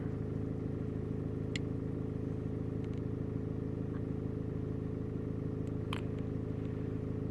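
A Mercedes engine with a loss of power runs at a steady idle, an even mid-pitched hum with a couple of faint clicks over it.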